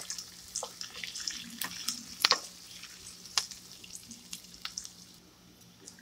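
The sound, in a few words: onions sautéing in a wok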